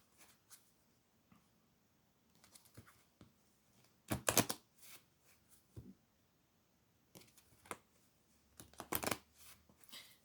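Faint, quiet papery riffles and snaps of tarot cards being shuffled come in short separate bursts with pauses between them.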